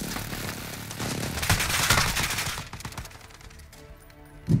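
Airstrike gunfire in a video game, a dense roaring stream of rapid shots that swells and then tapers off, followed by a single close thump at the end.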